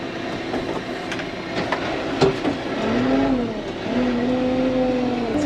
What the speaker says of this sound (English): Put her into 4-wheel drive. We're going to put her into first gear. Scoop number 1.